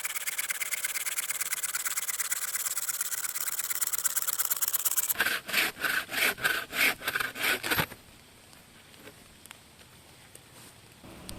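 A Bahco or Crispo hand saw cuts through wood in fast, steady strokes, first dense and continuous, then slower distinct back-and-forth rasps, then fading into quiet handling.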